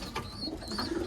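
Homing pigeons in a loft give soft, low cooing calls in a brief, close stretch, with light rustling around them and no talk.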